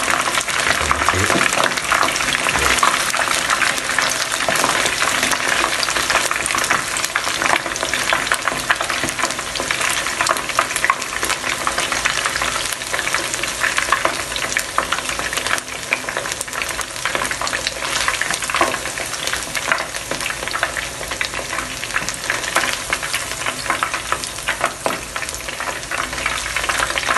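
Karaage chicken pieces fry in hot oil with a dense, continuous sizzle and crackle, heard close and steady throughout.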